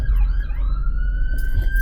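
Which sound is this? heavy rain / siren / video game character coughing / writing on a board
siren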